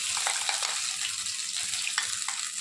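Mashed taro paste fries in hot oil with a dense, continuous crackling sizzle heard up close, and occasional soft stirring knocks come through the steady hiss.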